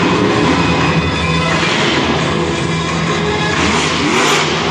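El Toro Loco monster truck engine at Monster Jam San Diego 2015, a loud, continuous roar under strain with shifting pitch, blended with heavy stadium noise and no clear talk, while the truck battles mechanical problems.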